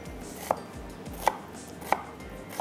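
Onion chopped finely with a knife on a board: four sharp, evenly spaced chops, close and clear over a quiet background, with no voices.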